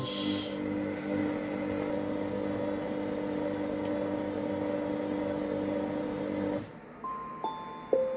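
A Monsieur Cuisine Smart food processor mixes cookie dough at speed 2, turning right, with a steady close mechanical hum and whine. The motor stops abruptly, then a few short electronic beeps sound.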